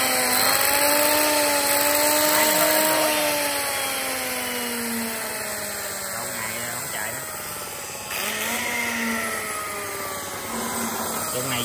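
A diesel engine of the kind sold alongside water pumps and chainsaws is started by hand and runs at a steady, loud, close drone with a falling and rising pitch, while someone talks over it.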